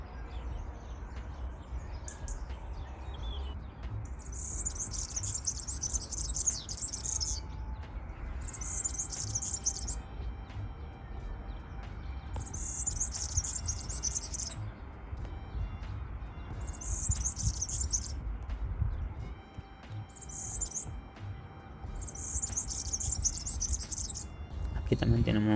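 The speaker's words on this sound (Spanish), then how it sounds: "Aquí una corruca también cantando, guiando, buscando a otros ejemplares." A warbler (Sylvia) sings in open countryside during breeding season, short bright bursts of song repeating every few seconds, fairly clear above a steady low rumble of background noise.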